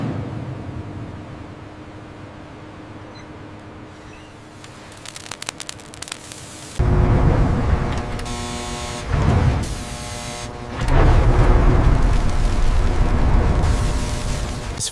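Molten recycled tank armor steel and slag stream past a mechanical skimmer in a steel recycling plant, a quiet hum giving way to loud, roaring bursts of crackling, rushing noise that surge and drop in waves.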